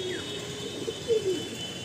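A male loft pigeon coos softly a few times over steady low background hum, the calls faint and close, with no talking.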